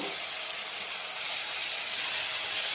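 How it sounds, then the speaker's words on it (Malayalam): Ginger-garlic paste dropped into hot oil in a pan over a low gas flame, giving a steady, close, broadband sizzling hiss that swells slightly toward the end, with no talking. "എണ്ണയെ കിടന്നിട്ട് സിമ്മിലേക്കാക്കിയിട്ട് നമ്മൾ എടുത്ത് വെച്ച ഇഞ്ചി വെളുത്തുള്ളി പേസ്റ്റ് ഇല്ലേ, അതിലേക്ക് ഇട്ട് കൊടുക്കുക"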